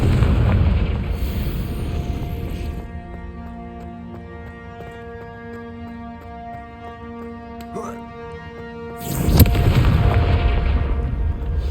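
A Confringo fire spell in the Hogwarts Legacy video game: a loud booming burst opens the clip, a quieter stretch with tonal game sounds follows, then a second heavy explosion hits near the end.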